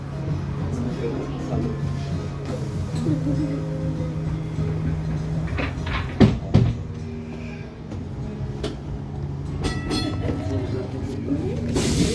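Steady rumble of a Bendigo heritage tram rolling along rails, with low mechanical drone and occasional clacks, while a voice talks over it.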